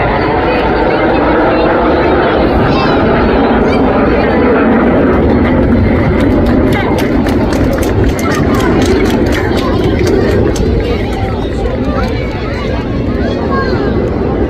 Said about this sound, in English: this aircraft is starting to accelerate to 200, 300, 400 miles per hour